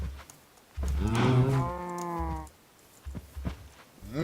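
Cows moo in a video game, one long, loud, drawn-out low moo near and clear, followed by quieter thumps and a brief rising call at the end.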